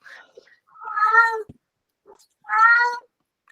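A cat meows indoors, two distinct drawn-out meows about a second apart, fairly close and clear, with near silence around them.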